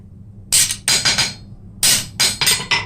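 Six sharp metallic hammer blows on a piece of steel being flattened, in two quick groups of three with a pause between, loud and close with ringing tails.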